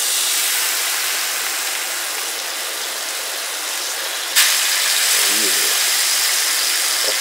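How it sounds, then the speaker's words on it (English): A bison filet sears in a smoking-hot pan, a loud, steady, broadband sizzle that carries on throughout, with a brief clank partway through. "that sizzle is exactly what you want to hear"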